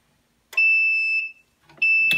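A heat press timer beeps twice, each a loud, steady electronic tone lasting about half a second to a second, with a short gap between them and no talk.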